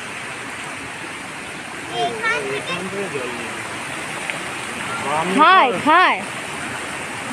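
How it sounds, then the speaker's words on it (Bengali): Water rushes steadily at a waterfall in Purulia, a broad continuous wash heard throughout, with people talking and calling out excitedly over it. "এই জলের আওয়াজ হচ্ছে বলো।"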